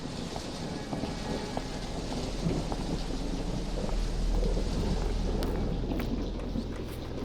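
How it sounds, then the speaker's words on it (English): Heavy rain pours steadily in a video game scene while deep thunder rolls and rumbles underneath, growing louder midway and staying close and continuous throughout. "All that thunder is going to drive me crazy."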